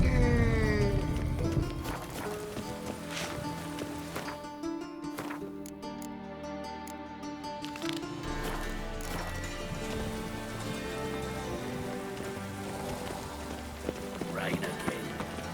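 Rain in the video game The Witcher 3: Wild Hunt, steady patter with horse hooves clip-clopping along, sustained over a game music bed.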